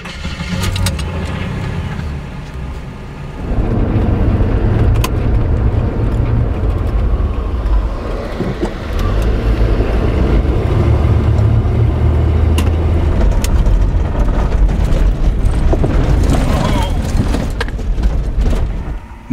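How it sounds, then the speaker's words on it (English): A car engine starts and then drives, a loud, close, steady rumble that rises after a quiet start and holds with small surges, with no talking. "Let's go for a drive."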